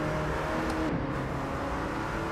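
Aston Martin GT3 Evo race car engine in the racing game Rennsport, a steady loud drone with a brief shift in pitch as it changes gear, heard alone without voices.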